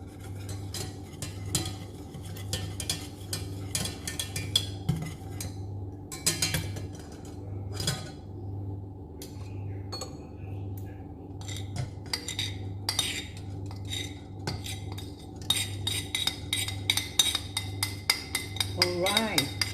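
A spoon clinks and scrapes against a pot while mashed boiled eggs are stirred into a thickening sauce for asparagus. The tapping is repeated and irregular over a low steady hum.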